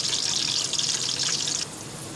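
Onions frying lightly in a pan give a steady, bright hiss that carries strongly, then eases off near the end, with no talking.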